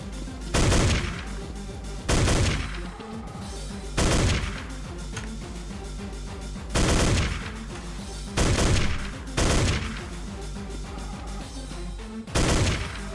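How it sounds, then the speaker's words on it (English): Enemies shooting the player in a Godot-built video game, loud bursts of rapid gunfire returning every couple of seconds in a steady rhythm, with quieter game sounds between volleys. "Gonna let them shoot me."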